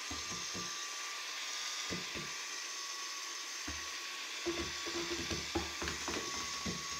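A drill spins a bent coat hanger to mix powdered drywall mud in a pan, giving a steady close whirring drone with repeated wet scraping knocks against the pan's sides and corners.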